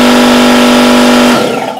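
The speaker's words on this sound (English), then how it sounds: "Next to me is a standard air compressor, and this air compressor is at 90 decibels." A standard air compressor rated at 90 decibels runs loud and close, a steady mechanical drone with a strong hum that abruptly cuts off and winds down over the last half second.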